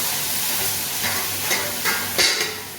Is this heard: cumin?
yes